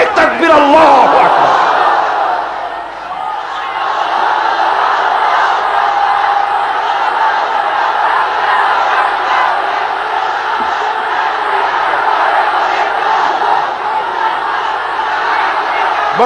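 A large crowd at an Islamic religious gathering roars a chanted Allahu Akbar in unison, a loud sustained collective shout that swells at the start and holds steady as a massed wall of voices.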